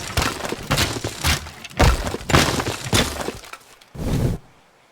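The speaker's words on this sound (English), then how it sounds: "so we destroyed a bit of the castle" Castle walls crumbling in the destruction game Teardown, with a run of loud crashes, cracks and shattering impacts in close succession, then one last heavy smash after a brief pause.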